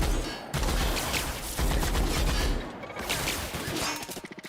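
A big gun in The Outer Worlds: Spacer's Choice Edition fires in loud, dense bursts of rapid booming shots, broken by short pauses and ending in a rattling tail.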